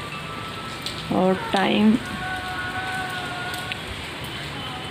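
Steady rain falls through a birthday evening during a power cut, a constant hiss filling the background while a short burst of speech rises briefly over it.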